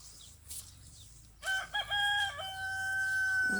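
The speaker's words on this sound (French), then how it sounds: "le coq." A rooster crows loudly and close by in one long, wavering call that trails off, with quiet farmyard sounds before it.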